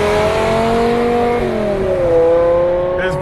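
Racing car engine revving hard during a V10 versus V4 race, a loud sustained whine that climbs in pitch, shifts, then climbs again.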